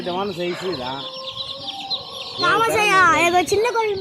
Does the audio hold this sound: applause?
no